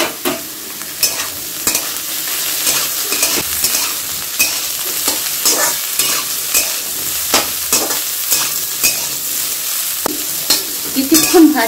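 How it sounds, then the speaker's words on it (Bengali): Carrots and beans stir-frying in a kadai for vegetable pulao, a steady close sizzle broken by repeated scraping and stirring strokes from a spatula, with no talk. "আমি গাজরটা আর বিনসগুলো প্রথমে দিলাম খোলায়"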